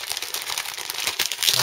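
Plastic bag around a KPM Hawker Tempest Mk.II model kit part crinkles and rustles steadily as it is handled up close, with brighter crackling bursts near the end.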